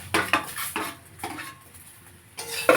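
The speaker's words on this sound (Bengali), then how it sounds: "এবার আমি টমেটো কুচিটা দিয়ে দেবো" Chopped tomato goes into a frying pan and is stirred, giving a few sharp clinks of a utensil against the pan early on, then a quieter stretch and more clatter at the end, with no talk.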